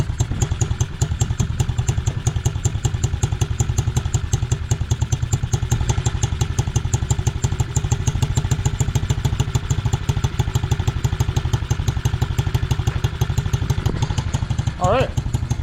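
A pit bike engine idles with a fast, even, close-up putter, steady throughout, with a brief voice near the end.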